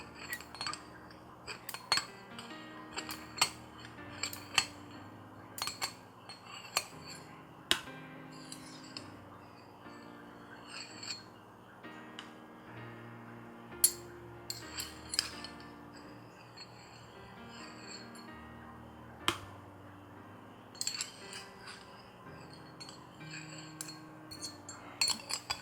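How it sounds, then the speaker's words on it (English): Small scissors snip moss inside a glass Florence flask, making scattered sharp clicks and light metallic ticks against the glass over a faint steady background, with irregular pauses between cuts. "Even with these new scissors, it's still very difficult to trim in here"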